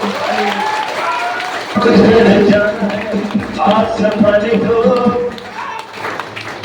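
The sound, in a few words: audience clapping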